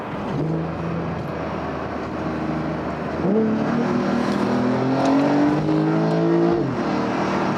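A 2022 Porsche 911 Turbo engine hums steadily, then climbs in pitch as it accelerates hard through the gears, a loud sustained drone with rising harmonics.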